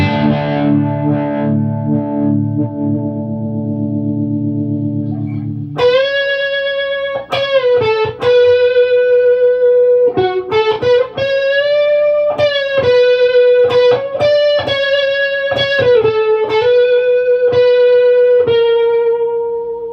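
Heavily processed electric guitar through an effects pedal, pedal pressed down hard: first a sustained droning chord, then a run of loud distorted notes with wavering, swelling pitch and a chorus-like shimmer.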